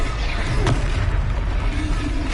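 A Confringo fire spell explodes in Hogwarts Legacy, a brief low boom with a sharp burst, followed by a rumbling tail over game ambience.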